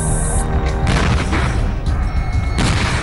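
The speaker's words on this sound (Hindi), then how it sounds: "सिलेंडर से भरे ट्रक में अचानक 2 मिनट के भीतर 11 धमाके हुए" A truck loaded with gas cylinders burns and explodes, heavy booming blasts with a dense roaring rumble that stays loud and continuous, with no talk.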